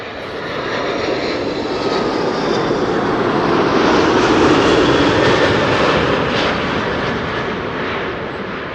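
Airliner N812NW arrives at Amsterdam Schiphol in sunny weather with a loud, sustained engine roar that swells to a peak mid-pass and then slowly fades as it moves off.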